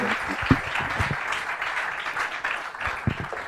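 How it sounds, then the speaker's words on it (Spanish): Applause from a conference audience at a WordPress meetup, a steady wash of many hands clapping with a few sharper nearby claps, moderately loud and continuous throughout. "Un aplauso muy grande."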